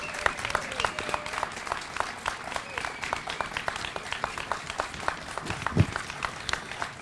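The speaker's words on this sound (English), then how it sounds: "So please give Opal Lee a wonderful hand clap." Audience clapping for Opal Lee at an outdoor Juneteenth flag-raising ceremony, a moderate crowd's sparse, distinct hand claps spread across several seconds, fairly quiet and steady.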